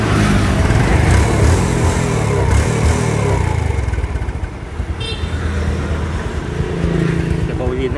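2006 Yamaha Jupiter MX motorcycle with its original engine, running steadily close by with a busy mechanical clatter, while someone talks over it throughout.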